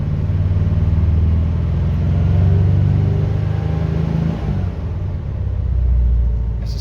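A cold 1974 Triumph Dolomite Sprint engine idles and is gently revved, giving a loud, close, deep low rumble with a slow rise and fall in pitch and a thudding undertone.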